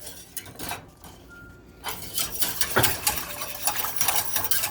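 A spoon clinks and scrapes in a pot of pickling brine made from vinegar, sugar and water, stirred in short irregular bursts, close and fairly loud, with no talking.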